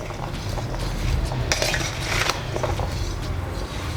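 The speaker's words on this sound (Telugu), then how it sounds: "బాగా కలుపుకుందాం." Mango pickle pieces being mixed with spices and fenugreek powder in a bowl, giving close, steady scraping and clinking of a utensil against the dish with soft wet patter throughout.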